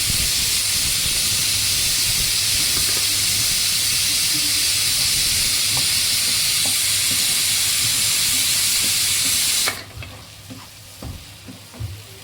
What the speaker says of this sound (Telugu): పక్కన పప్పు కూడా ఉడికిపోతుందండి